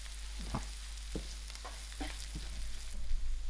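Sour dhal masala sizzles and fries in a pan while a spoon stirs it, steady frying hiss with repeated scraping strokes about every half second, close and fairly loud.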